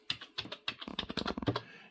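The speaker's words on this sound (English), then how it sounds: "and type it in the address bar." Fingers type an IP address into a browser's address bar on a computer keyboard, a quick run of crisp, close key clicks in uneven rhythm.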